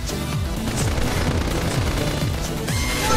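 Rapid bursts of cannon fire in the video game Xenoblade Chronicles X boom repeatedly in a steady rhythm, loud and close, with no talking.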